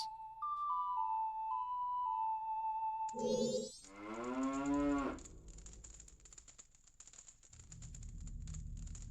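A cow moos in RuneScape, a loud drawn-out low call heard close up after a series of game tones, followed by clicking interface sounds and a low rumble.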